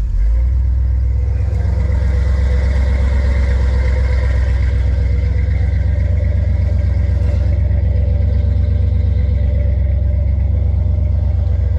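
A 454 car engine with a 600 horsepower EFI system and inline fuel pump idles steadily, a deep continuous rumble up close and loud throughout, with no talking.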